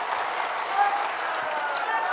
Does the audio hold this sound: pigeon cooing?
no